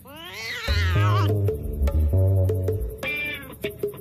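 A cat meows several times up close, with drawn-out, wavering cries and a lower growling tone between them.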